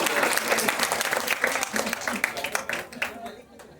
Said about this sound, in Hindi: तालियों की आवाज तो बहुत कम आ रही है